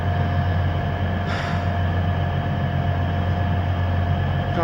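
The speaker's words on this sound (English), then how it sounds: "So it's nice to be waiting for a train." A train idles at a station on a damp evening after heavy rain, its steady low rumble and tonal hum continuous and close, with one brief hiss partway through and no talking.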